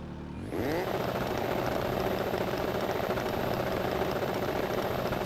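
A rally car engine in the EA Sports WRC racing game jumps to a high, steady rev while the handbrake is held, droning loudly and evenly without a break.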